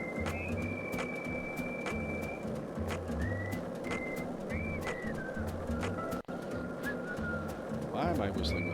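Pigeons coo and trill in the Deadly Premonition 2 video game, several short calls repeating over a constant low ambient hum, with some faint whistling tones and talk mixed in.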